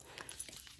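A dog whimpers and gives a few soft yips, close by but faint, in a brief burst of small whining sounds.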